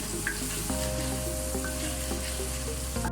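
Masala with whole dried black chillies frying in a pot for a beef kofta curry, giving a steady, close sizzle with faint stirring throughout alongside a constant low hum.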